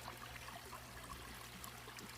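Water trickles steadily out of a cheap homemade fine filter, a continuous close stream with no voices over it.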